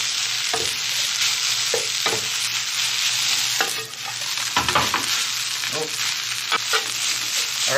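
Garlic fried rice with Spam sizzling in a pan with sesame oil, a spatula scraping and stirring in irregular strokes over a constant close frying hiss.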